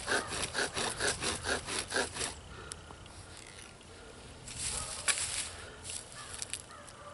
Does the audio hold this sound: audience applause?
no